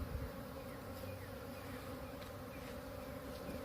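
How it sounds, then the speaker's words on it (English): A honeybee swarm of roughly 80,000 to 120,000 bees during spring fills the air with a dense, steady buzzing that stays even and close throughout, with no talk over it. "standing in the middle of a swarm of 80 to,"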